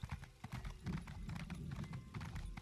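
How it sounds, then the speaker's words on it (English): Horse hooves galloping in The Elder Scrolls Online: Morrowind: a quick, rhythmic clip-clop of hoofbeats runs steadily, close and moderately loud, with a faint whinny underneath. "Let's get back on the horse then."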